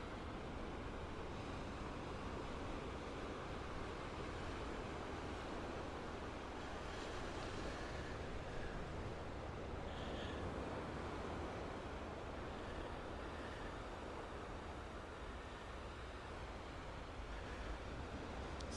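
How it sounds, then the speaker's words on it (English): Cold wind blowing at a beach in Surfers Paradise with surf behind it: a steady, dense roar of wind buffeting and crashing waves, continuous and unchanging throughout, with no voices. "with this cold wind blowing behind us."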